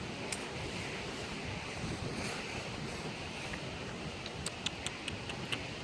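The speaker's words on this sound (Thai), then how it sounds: "ลมฝนครับ" Strong wind and rain lash an outdoor spot during a storm in South Korea, a dense, steady roar of gusts and downpour with brief sharper hits near the end and no voices.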